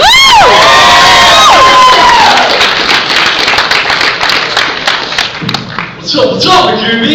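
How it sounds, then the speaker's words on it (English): Comedy club audience cheers, whoops and claps loudly for a comedian, with high shrill whistles and yells at the start and a mix of clapping and shouting throughout. "Here's some applause for you guys."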